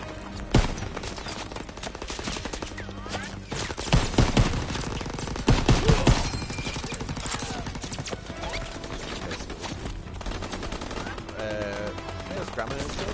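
Machine gun fire from a hayloft position in Call of Duty: WWII, with repeated loud bursts and scattered shots over a busy battlefield din of shelling, music and shouting soldiers.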